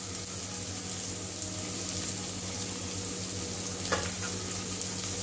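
Spring onion and shredded cabbage fry in a pan with a continuous dense sizzle, and a faint low hum sits underneath while the vegetables are stirred.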